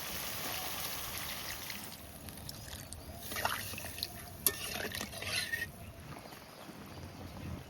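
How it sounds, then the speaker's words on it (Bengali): Water trickles and splashes into a pan of spiced potatoes with ground spice paste, chili powder and turmeric for a fish curry, a faint, close liquid sound with a few soft stirring clinks. "এবার জল দিয়ে দিচ্ছি"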